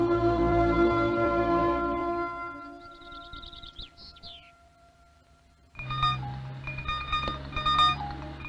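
A warbling electronic ringtone sounds in bursts over a steady low hum, repeating in a patterned, rhythmic melody toward the end.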